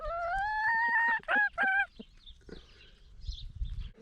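A hen in a winter compost run gives a drawn-out rising vocal call followed by two short clucks, close and clear, then quieter rustling and scratching.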